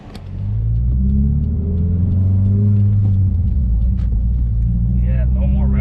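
A Subaru WRX engine with a Stage 1 tune and Cobb intake revs up and settles, its steady loud rumble running near the whole time, with a voice talking over it.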